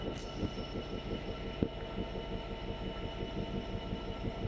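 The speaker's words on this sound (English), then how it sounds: "It's gonna be the 1251 Southeastern Service starting here to go to London Charing Cross" Southeastern train at Tunbridge Wells, bound for London Charing Cross, rumbling steadily with a rhythmic low clatter throughout, plus one sharp knock partway through; no voices.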